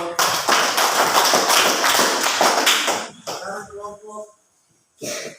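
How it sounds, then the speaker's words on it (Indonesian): A group in a classroom discussion session gets a dense burst of close applause that lasts about three seconds, then trails into a few scattered claps and a short final patter. "Ya, tepuk tangan untuk"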